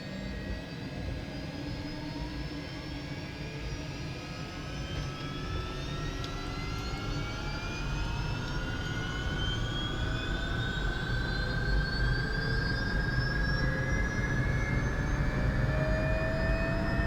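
Robinson R66 helicopter in Microsoft Flight Simulator spooling up its turbine as the rotors begin turning, a steady engine drone with rising whining tones that grows gradually louder, no talking heard.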